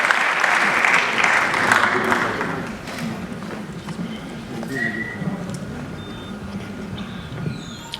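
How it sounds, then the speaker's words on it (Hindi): Loud audience applause at a comedy show fills the first two seconds, then fades into scattered background noise and faint voices. "जोरदार तालियां इनके लिए"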